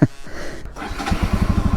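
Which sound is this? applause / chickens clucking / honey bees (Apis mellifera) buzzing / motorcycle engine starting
motorcycle engine starting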